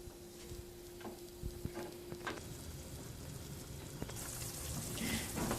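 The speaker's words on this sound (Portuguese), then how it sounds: "vamos deixar esse vinho reduzir agora para ele perder um pouco de acidez antes de adicionar a carne" Red wine reduces in a hot pan before meat is added, giving a faint, gentle sizzle with scattered soft crackles over a steady low hum, the hiss swelling louder toward the end.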